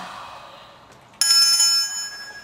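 A small bell rings once with a bright, sustained metallic tone during a séance comedy sketch, sounding close and clear after a quiet moment and slowly fading.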